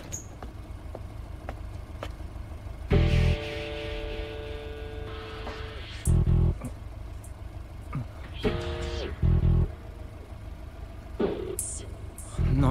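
A Subaru Impreza engine idles with a low rumble and revs up in several short, sharp bursts, separated by quieter stretches. The car sits nearby and sounds alone without talk.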